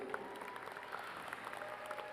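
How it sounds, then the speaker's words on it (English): Faint applause from a distant crowd at a school graduation ceremony, steady scattered clapping that continues evenly without a clear start or end. "Let's give them a round of applause"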